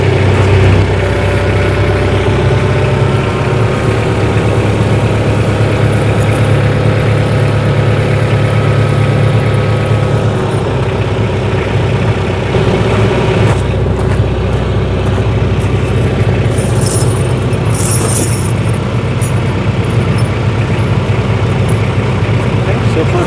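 A tractor fitted with pewag snow chains idles loud and steady, its low engine rumble running throughout, then shifts slightly as it pulls forward, with voices heard faintly over the engine.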